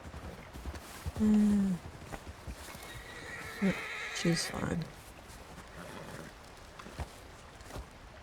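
Horse in Red Dead Redemption 2 snowy country, a loud whinny and snorts with hooves clip-clopping at a walk, close by, while someone talks briefly.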